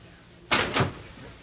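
A door in a home opens, giving a short thud and a second knock-like clunk, fairly close and alone, with only faint background between.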